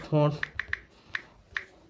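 Sparse, crisp key presses on a computer keyboard: about five separate taps while a short search for photo resizing is entered in a new browser tab. A brief voice comes just before the keys.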